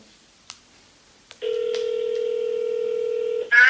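A phone call placed through Siri heading to voicemail: a couple of short clicks, then a long steady electronic call tone held for about two seconds, ending in a brighter burst of tones.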